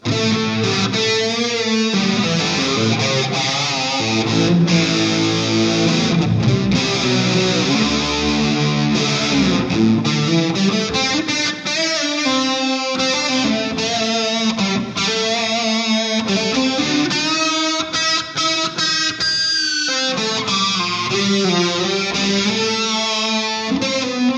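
An electric guitar plays through a JOYO Hot Plexi distortion pedal with chorus modulation and a little reverb, giving a continuous run of loud, saturated chords and notes, without talk.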